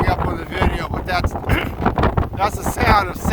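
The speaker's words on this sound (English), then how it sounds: "the sound of sand hitting my rain gear." Wind-blown sand rattling against rain gear on an Oregon coast beach, a steady gritty hiss with gusty wind buffeting the microphone up close.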